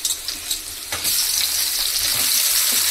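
Onions sautéing in a pan for pepper chicken, with a few clattering stirs at first, then a loud, steady hissing sizzle that swells and holds close by.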